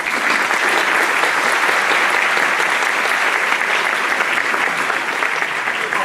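A lecture-hall audience gives a loud, dense, continuous round of applause, an unbroken wash of many hands clapping that holds steady for several seconds without any talk.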